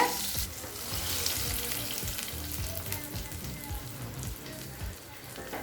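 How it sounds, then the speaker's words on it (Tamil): Spices are tempered in hot oil and poured over village-style kootanchoru, giving a close, crackling sizzle with spattering pops that stays busy and fairly steady, with no talk. "இப்போ கூட்டாஞ்சோறை தாளிச்சிடலாங்க."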